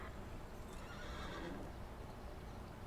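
A horse whinnies in the video game Unicorn Princess, a fairly faint neigh with light hoof clip-clops underneath, heard without talking.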